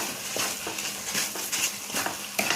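Grated carrot and chana dal roasting in ghee in a pan, with soft sizzling and periodic scraping stirs of a spoon against the pan, close and steady, no talking.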